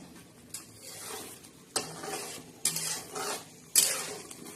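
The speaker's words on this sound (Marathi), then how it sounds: "अजून मसाला छान असा परतून घ्यायचा आणि छान असा शिजू द्यायचा." Masala for a fish (vaam) curry stirred in a pan: a handful of distinct scraping strokes with light sizzling between them, fairly close and quiet, no talking.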